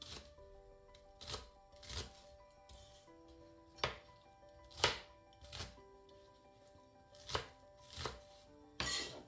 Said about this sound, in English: Cut the onion into pieces as well.